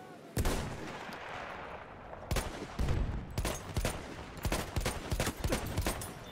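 Gunfire in the video game Battlefield 1: a burst of loud shots opens, followed by rapid irregular volleys of close, sharp reports through the second half, with dense battle noise in between.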